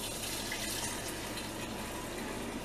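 Fresh milk poured through a strainer on a small farm during morning chores, a steady close splashing, trickling stream of liquid that runs on without a break.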